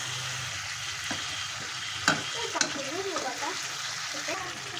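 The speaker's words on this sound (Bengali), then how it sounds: "মাংসটা এতটাই ভালো যে কড়াইতে কষাতে কষাতেই গলে গেছে" Tender goat meat gets stir-fried in a kadai, a soft continuous sizzle broken by a couple of spoon scrapes and clinks, close by.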